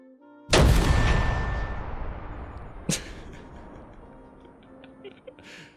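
The Bismarck's 380mm main guns fire in a naval video game: a huge booming blast that rolls away slowly, then a second sharp report a couple of seconds later, loud and with no talk.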